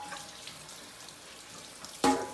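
Kitchen utensils rinsed under a running tap after making sea buckthorn juice, a quiet room that breaks into a sudden close burst of splashing water near the end.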